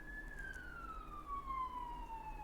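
A single emergency vehicle siren wails faintly in the distance, its long tone falling slowly as it passes.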